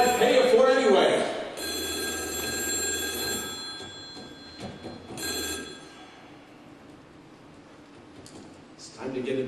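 An office phone rings in one sustained close burst, followed by quieter rustling and a voice at the end.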